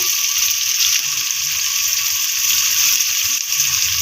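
Gravy sizzling loudly and steadily in a pan while turmeric powder is stirred in, a close continuous hiss with soft stirring underneath and no speech.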